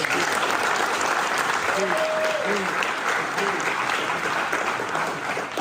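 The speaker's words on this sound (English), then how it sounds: "let's give them a round of applause" Sustained applause from an audience honoring thirteen college graduates at the 2022 Celebration Bowl, a dense, steady wash of clapping that fills the whole stretch, with a brief tonal whistle-like sound rising above it midway.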